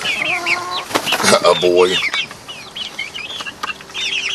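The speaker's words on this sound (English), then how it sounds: "Then there's our other rooster." A rooster crows and clucks close by in a farmyard, with harmonic crowing calls and short clucks layered with other chicken sounds, while a person says a couple of words.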